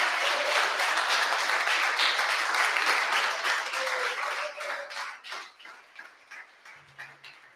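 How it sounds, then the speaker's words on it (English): A crowd at a web development bootcamp graduation demo day in Lisbon applauds for the graduating batch, a full round of clapping that thins out into scattered individual claps toward the end. "a final round of applause for batch 683"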